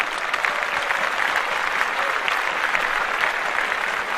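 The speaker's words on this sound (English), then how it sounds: "Clap that up." A live podcast audience in an urban talk-show setting claps steadily and loudly throughout, a dense continuous wash of applause with no speech over it.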